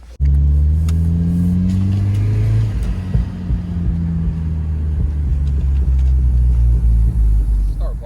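Engine of a Honda Civic FG4 coupe revving loudly up close. The low drone climbs and falls through several rev sweeps and holds a steady rumble for about eight seconds.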